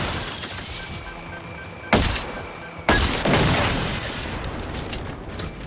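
Gunfire in the video game Generation Zero, loud sharp shots with dense rapid volleys, two heavy blasts cutting in partway and each followed by a ringing decay, with no talk.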